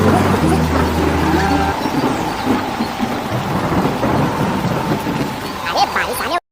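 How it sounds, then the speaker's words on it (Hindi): Rain falls steadily with rumbling thunder across a farm field, a continuous wash of noise with a low tonal hum near the start and a brief cut-out at the very end. "अरे बारिश आने"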